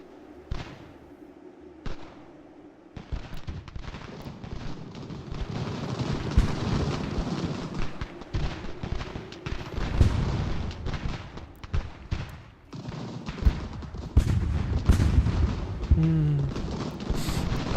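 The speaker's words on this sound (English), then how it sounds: "Open fire, boys." Musket volleys and artillery booms from an American Revolution battle in Ultimate General erupt in dense, irregular bursts, loud and continuous after a sparse opening, with sharp cracks layered over rumbling blasts.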